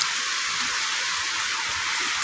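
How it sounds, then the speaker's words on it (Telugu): Heavy rain pours down steadily as a dense, even hiss throughout, close and loud, with no voices over it. "అమ్మో వర్షం గట్టిగా వస్తుంది."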